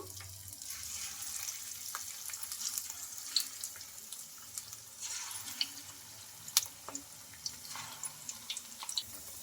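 Sabudana snacks fry in hot oil in a kadai, giving a steady close sizzling hiss broken by scattered crackles and pops, with no talking.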